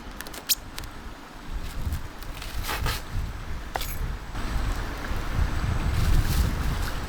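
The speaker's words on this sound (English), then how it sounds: "This wind is not doing me any favors." Gusty wind buffets the microphone outdoors beside a river, a rough, blustery roar that swells and builds toward the end, with a few small knocks and rustles and no talk.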